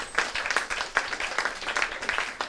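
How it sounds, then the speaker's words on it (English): Audience at an Inspiring Talks event in Brighton applauding, a dense, steady burst of many hands clapping at once, moderately loud and sustained throughout. "Let's have a massive clap for everyone that made it, especially people that came on their own."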